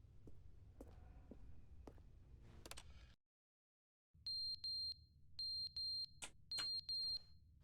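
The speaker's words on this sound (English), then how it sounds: "It's a fire alarm." In The Stanley Parable video game, a fire alarm sounds in loud repeated high electronic beeps with short gaps between them, coming in after a stretch of quiet clicks and low room noise and a brief full silence.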